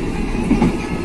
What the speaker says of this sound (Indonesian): Sesaat lagi kereta api Bengawan akan segera tiba dan berhenti di stasiun Krupuk.